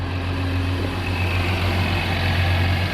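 A 2019 Honda Odyssey's 3.5L V6 idles steadily after a spark plug change, a smooth, even low hum running continuously and close by with no talk over it.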